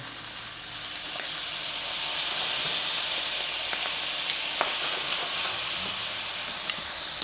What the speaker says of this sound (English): We're gonna add a little bit of white wine.